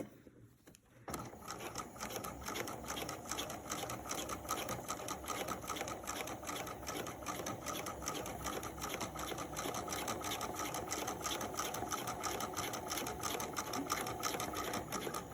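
A sewing machine stitches a gathered fabric seam in one long, continuous run of fast, even mechanical ticking and whirring, close and steady throughout after a brief pause at the start.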